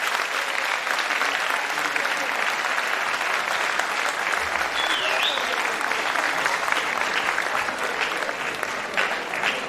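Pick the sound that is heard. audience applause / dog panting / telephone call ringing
audience applause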